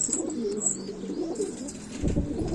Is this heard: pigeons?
yes